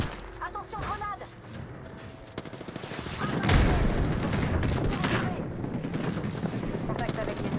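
A grenade bursts in a heavy, booming blast partway through an Apex Legends match, followed by a rumbling tail mixed with scattered gunfire, while a person talks nearby.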